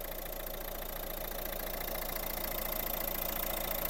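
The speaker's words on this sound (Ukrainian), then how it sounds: "Робота двигуна." A Renault Megane 1.5 dCi diesel engine idles steadily with an even, throbbing rumble and faint mechanical ticking, continuous throughout with no voices.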